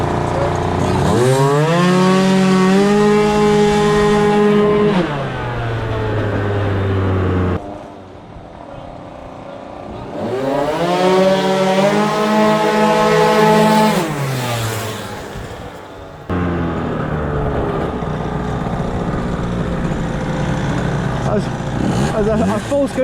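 Two modified scooters fitted with a performance exhaust and variator kit drag racing, their engines rising to a loud revving whine in two long bursts with a lower idle between and after.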